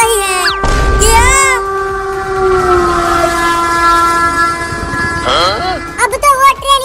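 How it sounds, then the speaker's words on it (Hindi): A train horn sounds loud and sustained close by, with rail rumble underneath and brief voices at the start and end, in a comic scene beside a train being towed by a tempo. "देखो एक और ट्रेन आ रही है"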